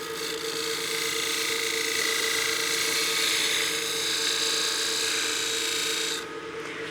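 A spindle gouge cuts into the corner of a bead on a wooden utility box turning on a lathe: a steady, close rasping hiss over a low motor hum, ending abruptly just before the close.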